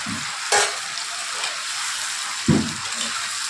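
Potatoes frying in a pan with yogurt and spices for a dahi aloo dum, a steady close sizzle with a couple of sharper stirring clatters from a spoon against the pan.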